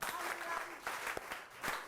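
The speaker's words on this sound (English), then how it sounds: "Clap for Bayern." Students clap in a classroom for a winning team named Bayern during an interactive game, brief and fairly faint with a few distinct claps, and voices talking over it.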